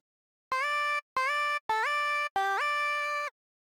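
Four separate synth lead notes, bright and buzzy, the later ones sliding smoothly in pitch from one note to the next before cutting off.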